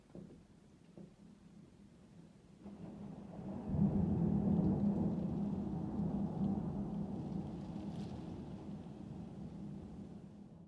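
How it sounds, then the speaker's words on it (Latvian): Deep rumbling thunder from a heavy thunderstorm with many lightning strikes, rolling in after a few seconds and swelling into a long, loud, sustained roar that slowly fades, with no voices. "kā tāds kārtīgs pērkona negaiss ar skaļiem pērkona dārdiem"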